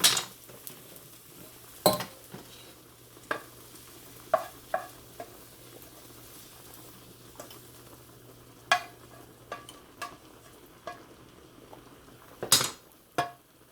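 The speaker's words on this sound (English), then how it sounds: "we're going to pour this into a separate pan and we're going to start cooking our meat" Cooked onions are scraped and poured from one pan into another, with a series of sharp metal clinks and scrapes of a utensil against the pan over a faint background sizzle, and no talking.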